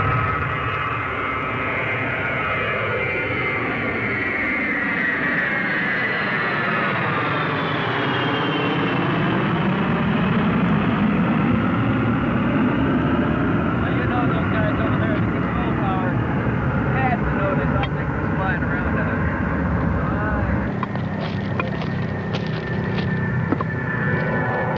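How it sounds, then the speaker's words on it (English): A C-141 military transport jet takes off and passes right overhead, a loud, sustained roaring rumble whose pitch sweeps down and back up as it goes by, dominating for the whole stretch. "there's a C-141 coming this way, taking off the tube. It's gonna go right over."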